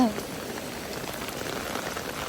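Steady rain falling outdoors, an even broadband hiss of drops that holds at a constant level throughout with no clear individual splashes standing out.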